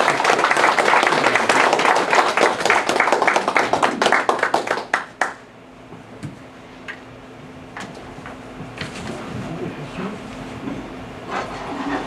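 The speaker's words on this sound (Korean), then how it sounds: "큰 박수로 맞아주십시오" An audience at a Korean forum lecture on US–China rivalry claps loudly and steadily to welcome the lecturer, the dense applause dying out abruptly after about five seconds into quiet room tone with a few faint scattered sounds.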